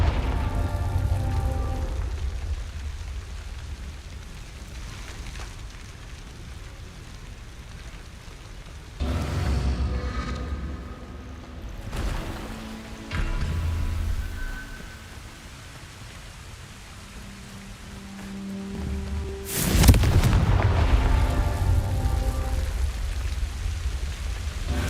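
Repeated blasting-spell explosions from the Hogwarts Legacy video game, with loud bursts around ten, thirteen and twenty seconds over a steady rumbling wash of noise.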